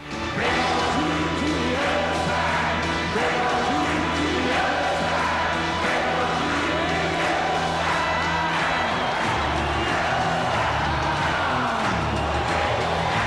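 A large rock concert crowd roars in a recreated rock band performance from the 1991 film The Doors, a dense, constant wall of cheering and shouting with a low rumble throughout.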